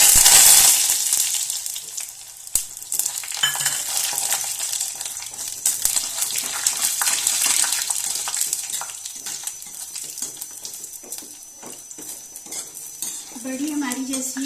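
Badi, dried lentil dumplings, sizzle in hot oil in a pan while being stirred, with a steady close frying hiss under repeated scrapes and clinks of a utensil against the pan.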